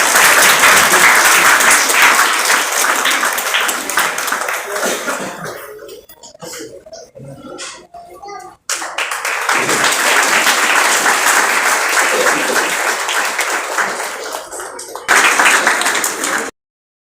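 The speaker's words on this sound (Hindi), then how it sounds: "जोरदार तालियां बच्चों वर्गीकरण के लिए।" Children applaud loudly at a student award ceremony, with dense sustained clapping that fades to scattered claps and coughs in the middle, then surges back strongly before cutting off abruptly.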